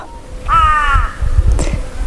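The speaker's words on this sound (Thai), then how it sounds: "เสียงอีกา" A crow gives a single loud, drawn-out caw nearby, followed by a short rustle and a second brief call against light background noise.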